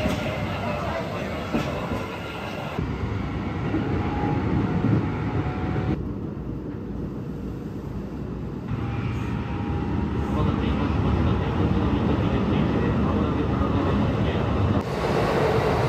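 A passenger train on the line toward Kanazawa-hakkei rumbles steadily from the inside, the broadband roar shifting in level as it runs, with no voices over it.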